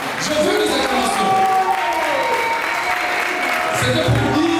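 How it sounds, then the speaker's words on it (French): Wedding guests at a civil ceremony applaud steadily, a dense close wash of clapping with cheering voices and chatter mixed in, swelling again near the end. "Mesdames et messieurs, on acclame."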